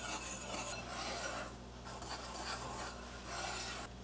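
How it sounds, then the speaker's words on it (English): A whisk stirs dry salt, cinnamon and nutmeg in a bowl, making soft, continuous gritty scraping that rises and falls in gentle swishes, with no voices. "Then you want to whisk the ingredients together."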